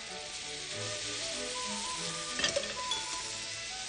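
A sauce bubbles and sizzles hard in a pan over high heat as it reduces, making a dense, constant close hiss with a brief flurry of louder spattering partway through.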